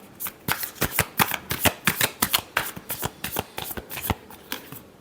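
Tarot cards shuffled by hand, giving a rapid, steady run of crisp riffling bursts close to the listener, about a dozen quick pulses with no talk.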